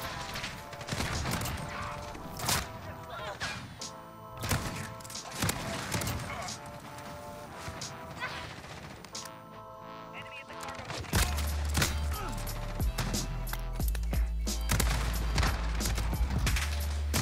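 A VLK Rogue shotgun in a video game fires repeatedly in sharp, punchy blasts amid chaotic gunfire and impacts, with a deep rumble building in the later part and a player talking over some of it.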